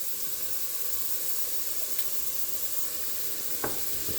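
Chopped onion sizzles in a pan as the base for a marinara sauce, a steady close crackling hiss with a brief stir or clink near the end and no talking.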